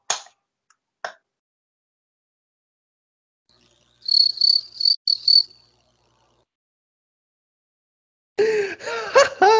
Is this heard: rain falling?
no